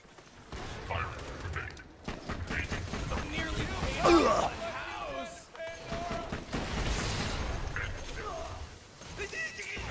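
Co-op gunfight in Borderlands 2, with rapid gunshots crackling in bursts and a sharp peak around the middle. Players talk over much of it and game sounds clutter the background.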